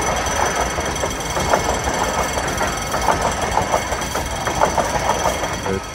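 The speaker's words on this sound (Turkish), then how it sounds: "Evet, tren istasyonunun sesini duyuyorsunuz." A train rumbles through a railway station with a heavy engine drone and rhythmic clattering pulses, loud and close throughout, with no talking.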